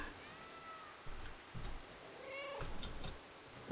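A cat meows in the video game Stray, a few short mid-pitched calls spaced out over soft ambient background noise, with no talking.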